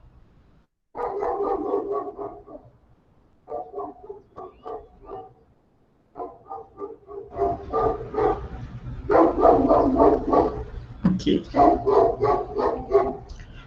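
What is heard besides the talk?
dog barking near the building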